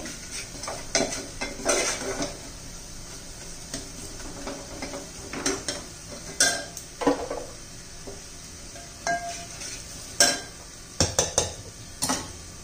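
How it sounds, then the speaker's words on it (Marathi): Spices, including turmeric, being sautéed in a pan for pav bhaji, heard as intermittent scraping and clinking of a spoon against the cookware with faint sizzling, close by and fairly quiet, with no talk. "तर छान असा मसाले परतून घेऊ आपण"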